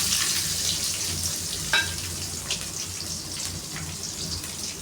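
Long-sliced onion dropped into hot oil with popped mustard seeds, giving a steady soft sizzle and hiss with a brief sharp clatter as it goes in, close and alone without talk.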